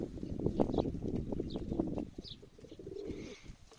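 Pigeons coo softly in a loft, low murmuring calls layered close together with faint rustling and a few brief chirps.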